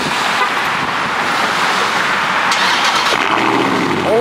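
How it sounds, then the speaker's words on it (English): A car engine fitted with an aftermarket muffler cold-starts and revs loudly, a steady broadband exhaust roar filling the whole span with no talk over it. "About to do my first cold start with my muffler today."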